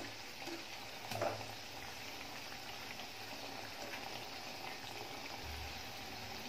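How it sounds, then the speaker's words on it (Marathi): Carrot and beetroot mendu vada deep-fry slowly in oil over a low flame, a soft steady bubbling sizzle heard close up and fairly quiet, with one faint clink near the start. "स्लो फ्लेमवर सावकाश तळून घ्यायचे आहेत"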